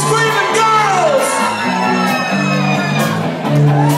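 A concert crowd of girls screaming and cheering before a live performance of a rock song, a loud, continuous wall of shrieks, whoops and yells.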